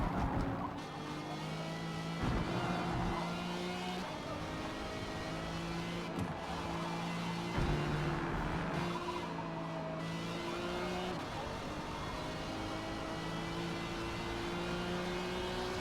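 Race car in Forza Motorsport lapping the Catalunya circuit, engine howling near and loud with repeated gear shifts and rising revs, tire squeal at the corners.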